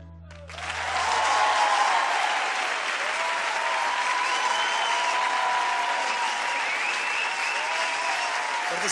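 Concert audience bursts into loud, sustained applause after a song, steady dense clapping with whistles and cheers running throughout, swelling in after a brief quiet start.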